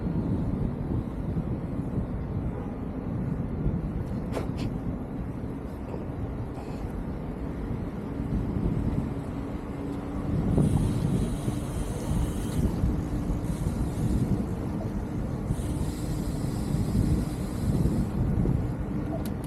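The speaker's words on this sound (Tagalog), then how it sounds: "Hangin. Presko. Maangin." Steady wind buffets the microphone in gusty, rushing waves at the Jeddah F1 Circuit, with a low continuous rumble underneath and no clear talking.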